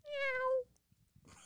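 A single clear cat meow, short and bright, followed by faint rustling and a brief burst of noise.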